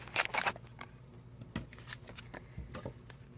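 Scissors cutting down a paper card during scrapbook album assembly: a few close, crisp snips and paper handling noises, loudest near the start and then lighter and scattered, with no voice.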